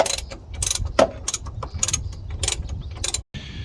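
A hand ratchet tightens body lift bolts on a Chevy Express in rapid, close clicking strokes, and a brief pause comes near the end.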